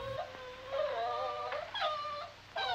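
Puppies whimper and whine from inside a sack, a series of high, thin cries with short pauses, fairly close and alone.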